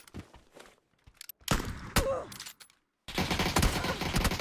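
Video game gunfire: loud bursts of shots with thuds in separate clusters, a short silence, then a sustained dense volley to the end.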